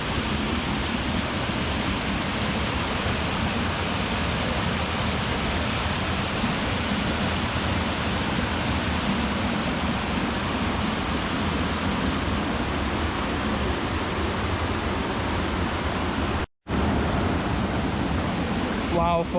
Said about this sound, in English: I love a bit of waterfall action